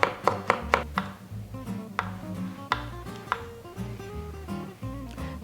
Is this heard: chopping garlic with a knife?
yes